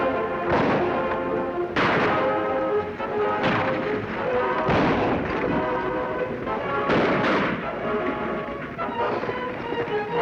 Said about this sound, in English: Sure hope you're a good shot, Baron.